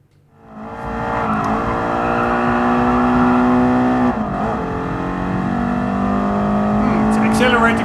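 A high-revving car engine accelerates in Gran Turismo Sport, climbing steadily through the revs with a loud, sustained whine that holds near its peak, with a brief dip partway through.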